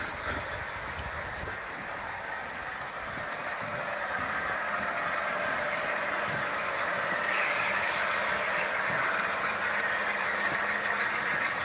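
Distant stack train rumbling steadily nearer, a faint continuous low roar and rail noise that slowly grows louder, with no talking.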